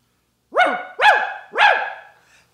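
A man imitating a dog with his voice, giving three quick, high, soft barks in a row that rise and fall, close to the microphone with no other sound.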